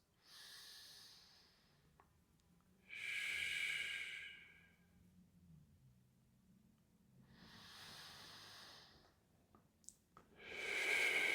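Slow, deliberate breaths during a calm guided meditation, several airy inhale and exhale hisses spaced by quiet pauses, close and soft with no talking.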